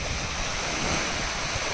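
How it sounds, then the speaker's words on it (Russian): Large waves churn on a bay in strong wind: a steady, dense roar of surf and rushing air, with wind buffeting the microphone throughout and no voices. "вы видите, что волны довольно большие, ветер довольно сильный"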